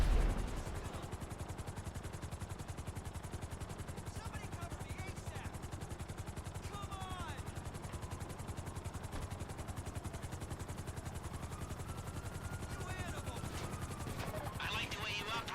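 A helicopter's rotor chops steadily and loudly throughout a GTA heist getaway, with faint gunfire bursts scattered in the background.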